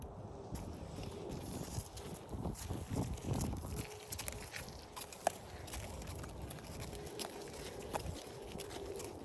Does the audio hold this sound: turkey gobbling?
no